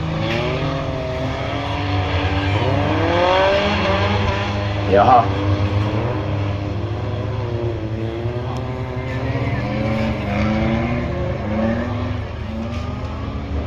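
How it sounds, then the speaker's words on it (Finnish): Rallycross cars race past at Motopark Virtasalmi, a steady roar of engines and revving under continuous commentary from someone speaking throughout. "Ja nyt sitten autot, ensimmäiset on mennyt jo vaaliviiva ohi ja sitten viimeiset tulee nyt."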